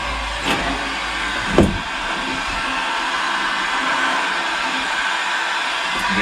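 A hot air tool heats a plumbing fitting on a Grady White boat, blowing a steady whooshing roar close by, with a couple of brief knocks early on.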